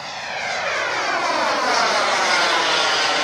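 A Bell P-59 Airacomet, America's first jet aircraft, flies overhead at an air show, its engine a loud, rising whooshing roar with a shifting tone as it passes, with no talking over it.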